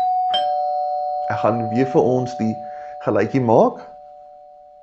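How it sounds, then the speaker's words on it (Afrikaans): A doorbell chimes indoors, a clear steady electronic tone that rings on through the whole moment at even loudness, while someone speaks in Afrikaans over it. "Dis 'n deurklokkie."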